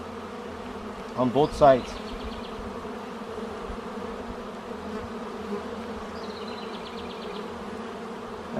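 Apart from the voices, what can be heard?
bees buzzing on beehive frames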